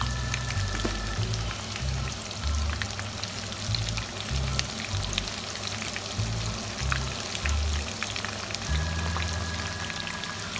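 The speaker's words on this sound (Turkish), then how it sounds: "kızgın yağda kızartacağım" Steady, dense sizzling and crackling of crispy chicken frying in hot oil, continuous throughout with small pops, no voices.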